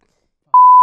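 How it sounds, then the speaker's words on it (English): A single sharp electronic buzzer beep in a lyrics quiz game, a clean steady tone lasting about a third of a second after brief silence. "Beep."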